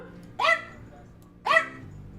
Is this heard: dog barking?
yes